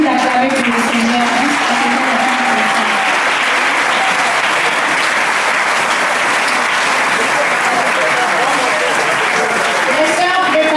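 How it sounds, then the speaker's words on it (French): A church congregation at an evangelical Sunday service applauds loudly and steadily, dense clapping mixed with cheers and voices, a singing or calling voice riding over the first few seconds. "On continue d'acclamer pour le Seigneur."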